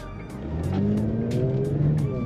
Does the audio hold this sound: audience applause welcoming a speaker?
no